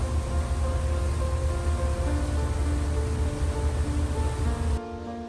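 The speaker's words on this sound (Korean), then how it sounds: "푸른 바다와 하얀 포말로 부서지는 파도와 함께" Broad, steady wash of sea water and breaking waves churned up by a ferry pulling out of Samdeok port, continuous and fairly soft, ending with a drop in level.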